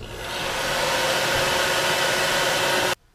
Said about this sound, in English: Get the hair dryer back out.